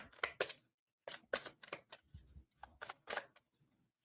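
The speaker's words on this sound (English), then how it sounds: "just want to get a good shuffle" Tarot cards being shuffled by hand; a quiet, close series of crisp riffling and slapping bursts with short pauses between them.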